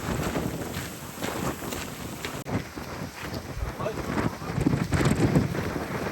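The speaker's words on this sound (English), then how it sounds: "It's gotten really windy." Strong coastal wind at Port Aransas by the Aransas Pass channel, with rough water, buffets the microphone with rough, gusty roaring that swells and dips throughout, with faint voices underneath.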